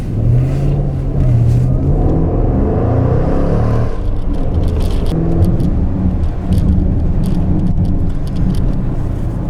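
2021 Jaguar F-PACE SVR with a 550-hp V8 driven hard on a road, heard from inside as a loud, steady low engine roar with rising and falling revs and a constant rumble throughout.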